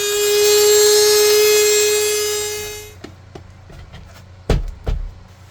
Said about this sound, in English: just using my router to router out a little bit on the edge here